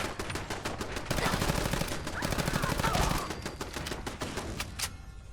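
Rapid automatic turret gunfire in Fallout 4 rattles in dense bursts, loud and sustained for several seconds before thinning into scattered shots, with no talk over it.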